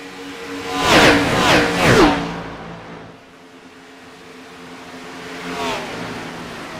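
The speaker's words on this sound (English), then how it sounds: "Very few cars, but they're all fast cars, and they're going to put on a show for you as we're live here with the NHMRL" Fast race cars in a live preseason NHMRL race roar past in a quick bunch of three or four, engines rising and falling as they sweep by, then another single car passes more faintly a few seconds later.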